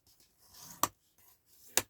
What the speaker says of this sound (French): Et je viens plier avec mon plioir.